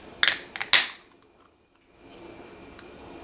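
A can of Brooklyn Brewery Pulp Art Hazy IPA opens with a few sharp metallic clicks and a snap close by, then a faint fizzing hiss settles in.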